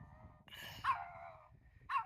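A dog outdoors in the woods at a campsite lets out high, drawn-out howls and whines, two rising wails close by with quiet pauses between.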